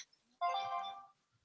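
A phone rings indoors during a casual hangout chat: a single short electronic ringtone burst, fairly close and clear, with near-silence before and after.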